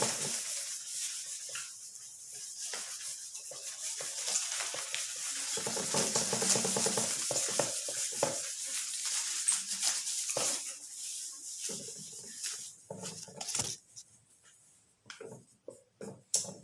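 Steady dry rubbing of an object against a surface during an e-learning lesson, a continuous scratchy friction that fades into scattered short strokes toward the end, with no talking.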